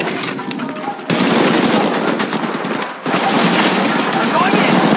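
Rapid automatic weapon fire in the Apex Legends Mobile shooter, loud and close, with two long continuous bursts separated by a brief pause and a quieter stretch of shots at the start.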